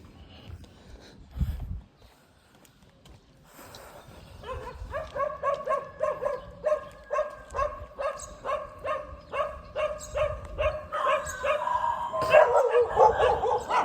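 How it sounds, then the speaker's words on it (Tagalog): Several dogs bark repeatedly in a steady, rhythmic chorus at moderate distance, growing louder toward the end after a quieter start. "Daming aso."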